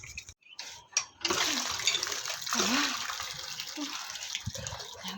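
Water gushes from a time tap for bathing, a close rushing splash that starts after a few brief knocks and runs on steadily, with bits of voice mixed in.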